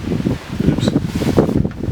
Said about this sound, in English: as soon as I go to do a cook, the wind blows up